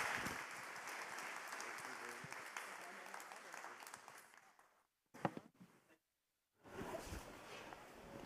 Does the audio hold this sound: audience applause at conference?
yes